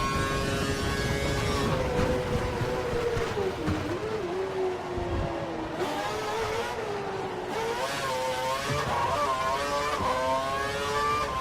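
F1 2012 video game race at the Abu Dhabi Grand Prix, with Formula 1 engines screaming and revving continuously as cars race past, loud and steady with shifting pitch.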